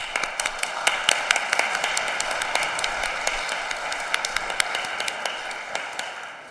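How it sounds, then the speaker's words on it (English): Applause at a church annual general meeting after vestry members are elected, a modest group clapping steadily with a few sharper individual claps standing out over the room. "Let's give them a round of applause."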